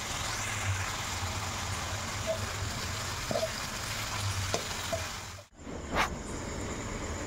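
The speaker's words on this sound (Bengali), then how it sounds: "এখানে আমরা আদা রসুনের পেস্ট দিয়ে দিয়েছি, এখন ভালো করে কষিয়ে নেব।" Ginger-garlic paste fries in a pan while being stirred for a chicken curry with potatoes: a steady close sizzle with occasional utensil scrapes and clinks, and a brief dip in the hiss near the end.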